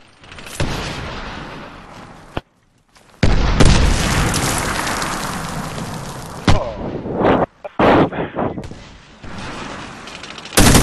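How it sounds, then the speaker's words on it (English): Mortar explosions in the online shooter Medal of Honor: Warfighter. Loud, close booms and roaring blasts come with gunfire, broken by sudden brief silences and followed by more bursts. "That mortar just teabagged both of us."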